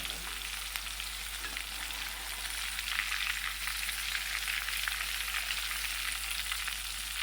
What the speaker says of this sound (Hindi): मिर्ची हमारी लाइट सी फ्राई हो गई हैं, बस इनको इतना ही फ्राई करना है।